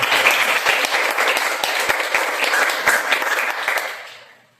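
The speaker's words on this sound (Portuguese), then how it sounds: "Vamos aplaudir a palavra de Deus." A church congregation at a Catholic Holy Spirit life seminar breaks into sustained, dense applause after the Gospel reading, steady and fairly loud before fading out at the end.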